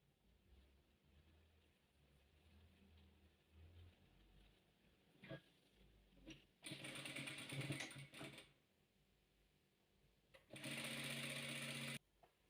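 A sewing machine stitches rows of mixed-colour patchwork in two loud, steady bursts, about a second and a half each, with quiet handling noise and pauses between them.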